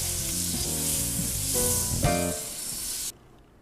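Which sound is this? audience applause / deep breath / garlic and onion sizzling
garlic and onion sizzling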